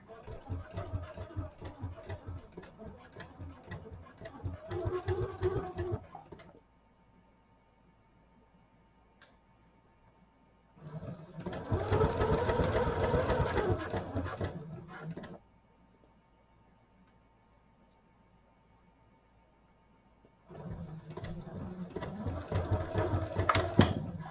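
A sewing machine stitches a 1/8-inch seam through the front and back fabric of a see-through project pouch and its clear vinyl, running in three steady bursts separated by quiet pauses.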